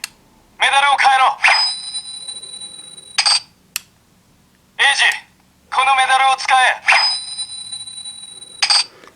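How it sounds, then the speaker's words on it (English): A loud electronic toy belt plays a repeated sequence of ringing chime tones and synthesized voice-like bursts, the pattern cycling twice with short gaps. "We also have the long press sounds."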